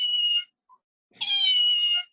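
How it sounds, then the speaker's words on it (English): A toy cat gives two short electronic meows, one brief and one longer and drawn out, with a tiny blip between them, heard close up in a quiet room. "Is that like a toy cat?"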